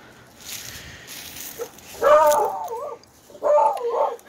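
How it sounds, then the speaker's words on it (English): A dog barks in two bursts of howling, yipping barks, close and loud, separated by quieter room noise. "That's my dog, sorry."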